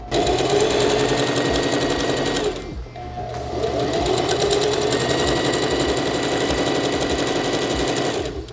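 A sewing machine runs fast and loud, gathering fabric into bunches as it feeds through, with a brief slowdown midway before stitching resumes steadily.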